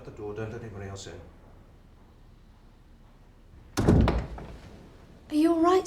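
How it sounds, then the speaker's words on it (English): A door thuds shut once with a solid, close bang, heard after someone speaks and a stretch of quiet. Another voice starts right after the slam. "Shut the door, don't let anybody else in."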